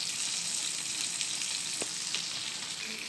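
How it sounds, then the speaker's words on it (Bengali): Pangas fish pieces frying in a pan, a steady continuous sizzle with bright crackling spatters and no talk. "আর এখানে হচ্ছে পাঙ্গাস মাছ ভাজি"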